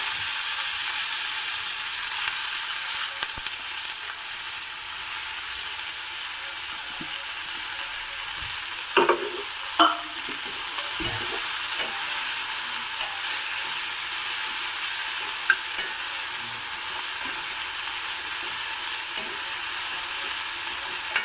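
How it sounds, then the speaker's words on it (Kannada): Chopped spring onions sizzle in a tempering with a steady, hissing sizzle that fills the clip, with a few soft clinks and scrapes of stirring partway through. "ಇದಕ್ಕೆ ನಾನು ಹೆಚ್ಚಿಟ್ಕೊಂಡಿರೋಂಥ ಸ್ಪ್ರಿಂಗ್ ಆನಿಯನ್ ಹಾಕ್ತಾ ಇದ್ದೀನಿ"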